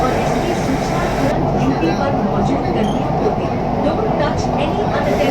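Kolkata metro train running through the tunnel beneath the Hooghly river, a steady loud low rumble throughout with rail noise, and people talking over it.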